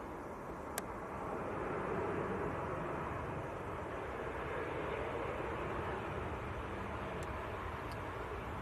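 A Sun Express Boeing 737-800 from Antalya rumbles steadily at Manchester Airport, a broad, distant engine roar that holds evenly throughout, with a couple of faint sharp ticks.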